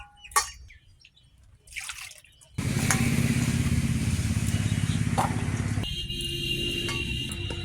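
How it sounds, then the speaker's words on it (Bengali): Banana stem and potatoes being washed in water: a few splashes and drips at first, then a steady run of sloshing, pouring water that continues to the end. "এবারে ঠোঁড় আর আলুগুলো ধুয়ে নেব জলে দেবো বেশি জলে ধুয়ে নেবো"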